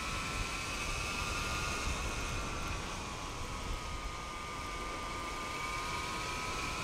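An electric bike motor pulls hard under power, a steady, fairly loud whine with a broad rushing drone and a faint high tone that rises slightly, continuous throughout with no talk.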